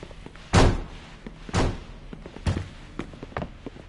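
Police bang heavily on a door in Mafia 2: a few loud, booming thuds spaced about a second apart, followed by lighter knocks and taps.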